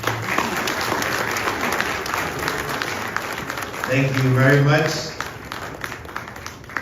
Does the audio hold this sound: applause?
yes